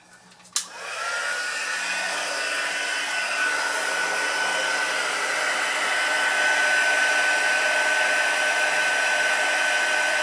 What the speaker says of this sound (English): And then obviously we heat emboss it.